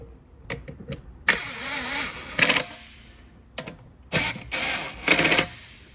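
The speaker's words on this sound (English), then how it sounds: "see if the engine runs" An old Elva car engine cranks in short bursts, sputters, then catches and runs unevenly with rattling mechanical clatter, loud and close, just after the cylinder head was reinstalled.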